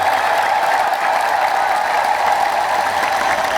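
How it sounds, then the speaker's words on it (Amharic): A church congregation claps and ululates in praise, a loud, steady wash of sound from a large crowd that holds without a break. "እስቲ ደስ ያላችሁ እግዚአብሔርን ከፍ ባለ እልልታና ጭብጨባ አመስግኑ።"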